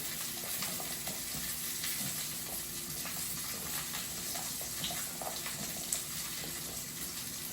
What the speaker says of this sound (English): we're going to mix that up well so the carrots are evenly coated